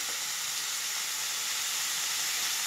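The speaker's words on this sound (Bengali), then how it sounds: "কিছুক্ষণ আমি এইভাবে ভাজবো, 1 মিনিট পর্যন্ত।" Goat leg skin frying in a pan gives a steady, close sizzle with a bright hiss that holds evenly throughout, with no talking over it.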